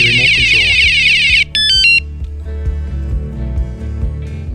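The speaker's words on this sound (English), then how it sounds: "Bump it a 3rd time, it's going to set off the alarm." A truck-mounted security alarm unit goes off after being bumped, letting out a loud, close electronic warbling tone followed by a short burst of stepped beeping chirps, with a blaring, buzzy tone continuing underneath.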